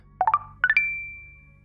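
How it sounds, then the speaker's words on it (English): A phone notification chime rings out: two quick rising triplets of bright electronic tones, the last note lingering and fading, clear and close with no voices. "she was disturbed from shopping by a notification from her phone"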